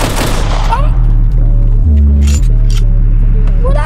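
Gunfire in the Roblox game, a rapid burst of loud, dense shots with a low booming undertone, followed by scattered clicks and a few more pops close up.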